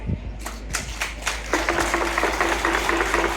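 A gathered crowd of constituents at a public meeting in Ngara claps and applauds, sparse claps at first building into steady, sustained applause close by.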